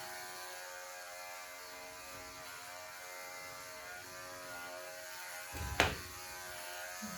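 Electric clippers grooming a labradoodle, a steady close buzzing hum with harmonic drone, rising to a brief louder rasp near the end as the blade passes through the coat.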